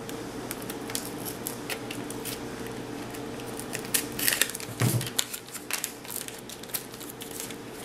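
Scissors snip and crunch through paper in a run of close, crisp cuts over a steady low background hum.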